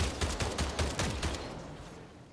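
Volt gun pistol in Marathon firing a quick burst of rapid close shots, a dense run of sharp cracks that tapers off into quieter rumble.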